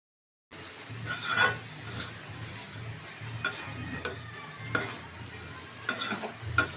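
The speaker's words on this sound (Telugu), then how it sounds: "అన్నీ వేసి బాగా కలుపుకోవాలి" Spoon stirring bitter gourd fry with coconut powder and spices in a pan, a steady run of scraping strokes with repeated sharp clinks over a soft sizzle, close and fairly loud, no talking.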